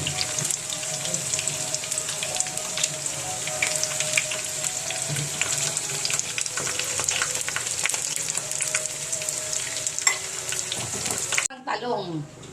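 Tortang talong, an eggplant omelette, frying in oil with a steady, bright sizzle that runs for several seconds before cutting off near the end, a voice faintly present.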